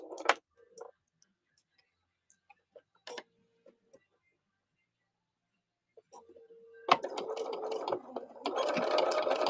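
A sewing machine back-stitching over seams while scrap pin cushions are being made. Faint clicks and handling sounds come first, then the motor starts up near the seven-second mark and runs steadily and close until the end.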